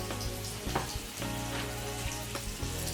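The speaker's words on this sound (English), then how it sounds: "then in the frying pan, just sizzling away lovely" Steady, close sizzling of chicken pieces frying in a pan for lemon chicken, a dense crackle with occasional louder pops, no voices.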